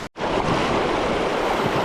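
River current rushing past during a summer fly-fishing outing, a dense, steady roar of water that fills the whole stretch after a brief cut at the start, with no talking.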